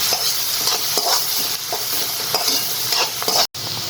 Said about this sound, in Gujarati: હવે આમાં એક મોટી ડુંગળી ઝીણી ક્રશ કરીને દીધી છે, એ નાખીશું। આને પણ 1 મિનિટ માટે ખાસ ગેસ પર સાતળી દઈશું